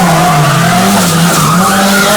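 A Toyota JZX100 with a JZ engine drifting, tires squealing in one loud continuous screech over a revving engine, close and unbroken.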